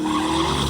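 Tires skid and squeal as a car spins out during a street-car drag racing event, a loud, sustained rough screech with a droning engine underneath, heard alone and fairly close.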